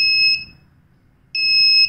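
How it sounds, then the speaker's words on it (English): An Arduino buzzer triggered by an LDR light sensor emits a shrill electronic tone in two bursts separated by a short gap, loud and close over faint room noise. "and the buzzer goes on."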